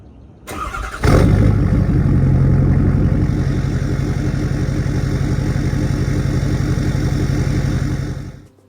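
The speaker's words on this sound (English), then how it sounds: "the second one will be the new AFE Power 5-inch exhaust." A 6.7 Power Stroke diesel truck fitted with an AFE Power 5-inch exhaust fires up after a short rustle, then settles into a loud, close, throaty idle with a chugging pulse that runs until it fades at the very end.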